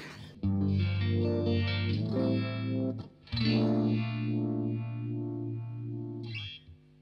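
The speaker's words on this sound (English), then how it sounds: "you hear that lovely sort of uh, watery, throbbing sort of sound that you get, which is really typical of a vibe" A guitar played through an MXR Uni-Vibe pedal gives a loud, watery, throbbing swirl over sustained distorted chords, with a short gap near the middle and no talking.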